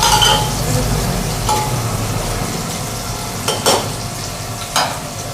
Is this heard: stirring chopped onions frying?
yes